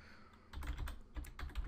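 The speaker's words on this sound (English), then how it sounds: "I've got a microphone in front of my keyboard here, so it makes it a bit more difficult to type" Keys clack on a computer keyboard sitting just behind a close microphone, a short burst of quick, uneven taps that sound near and fairly quiet, with no talking.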